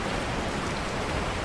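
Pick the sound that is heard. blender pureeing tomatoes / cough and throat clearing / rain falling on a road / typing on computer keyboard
rain falling on a road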